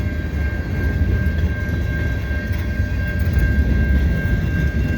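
A long CN freight train rumbles steadily past at a snowy street crossing, a continuous heavy low roar of rolling wagons with a faint steady tone above it, unbroken throughout.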